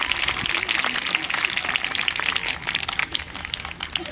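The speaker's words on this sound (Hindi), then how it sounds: "एक बार जबरदस्त क्लैपिंग अपने माता पिता के लिए।" Seminar audience in a garden venue breaks into strong, sustained applause for their parents: dense, crackling clapping from many hands that continues evenly throughout, slightly easing toward the end.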